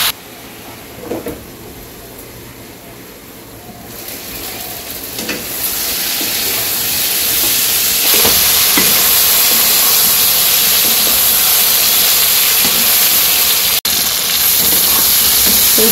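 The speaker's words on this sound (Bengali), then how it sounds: "ওদিকে মাছ রান্না করার জন্য সবজি কষাতে দিচ্ছি" Vegetables sautéing in a pan for fish curry in a village kitchen: a faint sizzle that swells into a loud, steady, hissing frying roar, with a few soft stirring knocks early on.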